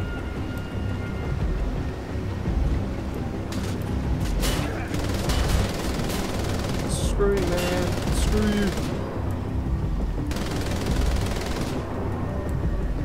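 Sustained automatic gunfire with bursts of shots and booms in the World War II shooter Wolfenstein: The Old Blood, loud and continuous, with a voice talking over parts of it.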